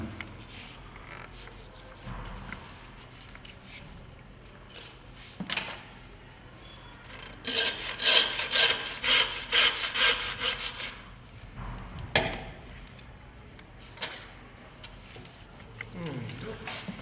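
A saw rasps back and forth through a beef carcass, separating the sirloin from the T-bone end, with a burst of faster strokes near the middle. The sawing is fairly quiet and close, with a person speaking intermittently.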